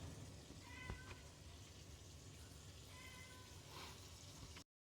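A house cat meows a couple of times in a kitchen while food sautés, soft and somewhat distant over a steady background hiss, with faint running-water sounds.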